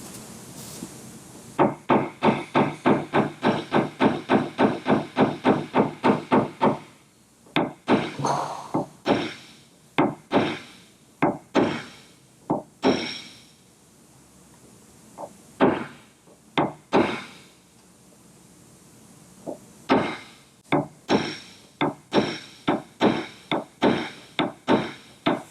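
Body hammer tapping down the metal around a small hail dent on a car panel during glue-tab paintless dent repair: a fast, steady run of sharp close knocks, then spaced single and paired taps.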